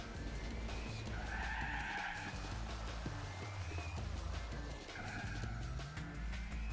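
A Mazda MX-5 skids across the grass at Tsukuba in Gran Turismo 4, with tyres squealing in two long, sustained bursts over a steady engine drone.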